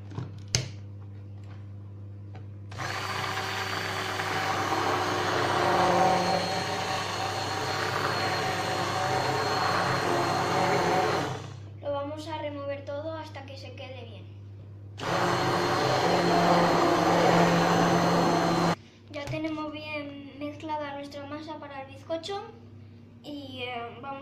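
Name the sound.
electric hand mixer running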